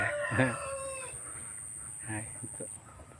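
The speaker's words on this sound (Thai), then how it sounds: "บรรยากาศเลี้ยงเป็ดเลี้ยงไก่ครับ" Chickens cluck and a rooster crows in a farmyard coop where ducks are also kept, with a few short voice-like calls mixed in and steady background hum.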